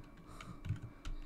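Someone typing a user name on a computer keyboard, a quick run of soft, close key clicks in an uneven rhythm with a couple of firmer taps, faint and alone without talk.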